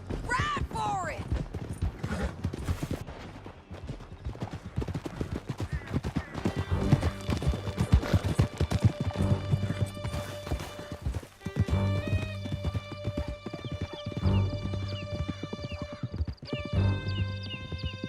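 Horses gallop hard through a canyon in Red Dead Redemption 2, rapid drumming hoofbeats with whinnies and scattered gunshots, under shouted voices and tense music toward the end.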